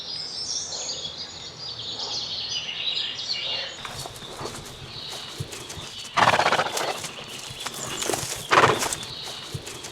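A horse in a lunging ring whinnies at the start with a high, wavering call, then hooves thud and clop nearby in uneven bursts, with faint birdsong in the background.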